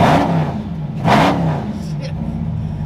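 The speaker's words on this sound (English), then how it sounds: "Truck sounds" A 1966 Ford truck with a swapped 392 Hemi engine revs up in a couple of rising surges over a low idle rumble, with a voice speaking briefly.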